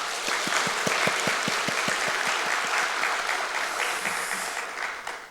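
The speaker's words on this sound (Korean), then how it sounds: "우리 박수로 격려하겠습니다" Church congregation applauding at a New Year evening prayer service, a dense steady wash of clapping that carries on throughout and thins slightly toward the end, with faint voices underneath.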